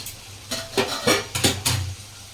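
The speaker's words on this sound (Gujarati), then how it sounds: "હવે આપણે મસાલો જોઈ લઈએ અને પછી હલાવી દઈએ." A spoon stirs guar bean curry masala in a cooking pan, giving about five distinct scraping clinks in a quick, uneven rhythm over a faint background hum, up close with no talking.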